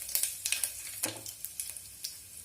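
Green chilies hit hot oil with panch phoron spices, giving soft, scattered crackles and pops at close range, fairly faint and irregular over a quiet background.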